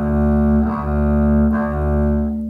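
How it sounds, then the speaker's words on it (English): A single bowed string note played mezzo forte in the mezzo forte bowing lane, sustained at moderate volume, steady and even with slight bow changes, no voices. "that will be the mezzo forte bowing lane."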